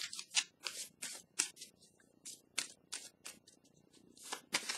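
Tarot cards are drawn and handled, giving a quick series of crisp, papery snaps and flicks, close and fairly quiet, with no voice.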